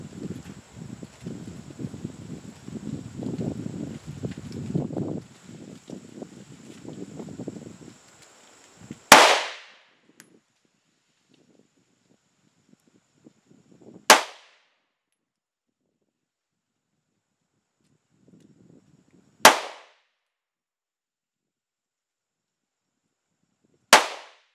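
Four sharp, loud pistol shots from a Polymer 80 Glock 19 at an outdoor range, fired at 7 yards and spaced several seconds apart, each ringing out briefly into near silence after a stretch of low background rumble.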